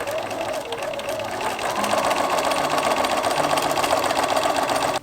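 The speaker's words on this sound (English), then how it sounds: "So now we're sewing the sides together." A sewing machine hums close and continuously, stitching the sides of a fabric project bag together, its motor rising slightly in speed and loudness after the first couple of seconds.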